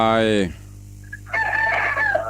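A rooster crows close by, one loud harmonic call that rises and then holds steady, with a steady low hum underneath.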